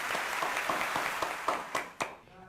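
Scattered applause fades out over about two seconds, the last few separate hand claps standing out sharply before silence falls.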